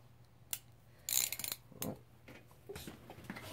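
Ratcheting and clicking from a wrench as a loose bolt on a sparking, rattling clutch is tightened, a few short bursts of metallic clicks close by with no talking.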